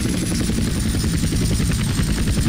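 Steady, droning airplane engine hum from GTA San Andreas during a landing, with dense low-frequency rumble and a faint high whine, continuous and fairly loud throughout, no voices.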